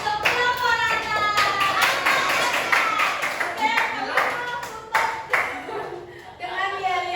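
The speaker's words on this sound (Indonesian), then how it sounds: "Beri tepuk tangan untuk kelompok Rantai" Audience clapping for a student group at an Indonesian school presentation, steady applause with sharp hand claps throughout, mixed with children's voices and chatter in the room.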